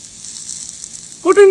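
Mustard oil sizzles with a steady bright hiss in a pan while koi fish curry with pointed gourd cooks; a voice begins speaking over it near the end.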